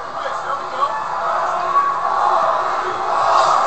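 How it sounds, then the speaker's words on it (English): A boxing arena crowd roars and chants the name of fighter Ortiz between rounds, a dense, loud, sustained wall of massed voices. "Crowd is chanting Ortiz"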